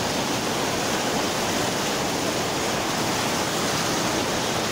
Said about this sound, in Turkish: Burası Aygır Şelalesi ve mesir alanı